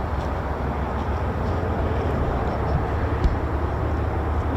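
A V-22 Osprey tiltrotor aircraft near an air force base produces a continuous broad roar, steady and fairly loud, with some wind buffeting on the microphone.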